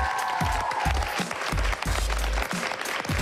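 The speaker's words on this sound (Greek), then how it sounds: "ένα από τα πιο ζεστά και τα πιο δυνατά σας χειροκροτήματα για τον Βασίλη Ζούλια." Studio audience applause on a Greek daytime TV show, a dense, sustained wash of clapping that stays loud and steady throughout, with some crowd noise mixed in.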